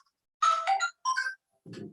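A phone ringtone sounds during a university electronics lecture, playing short bright melodic phrases in two bursts followed by a brief buzzing vibration, close and moderately loud in an otherwise quiet room.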